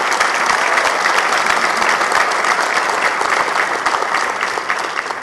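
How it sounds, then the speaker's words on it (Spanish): Sustained, dense applause from an audience at a Mexican public event, loud and even for several seconds before tapering slightly at the end. "Les pido a todos un fuerte aplauso para ellos por habernos apoyado"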